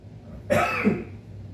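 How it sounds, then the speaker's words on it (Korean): A single sharp cough bursts out during a sermon, followed by a second rougher cough, close and fairly loud, with quiet room tone around it. "이렇게 기침나는 거예요."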